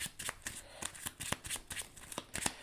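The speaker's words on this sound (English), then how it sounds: "I'm going to shuffle this just to be sure." A deck of cards is shuffled by hand for a Power Rangers: Heroes of the Grid tabletop game, a quiet, close run of crisp riffling snaps and flutters in uneven bursts.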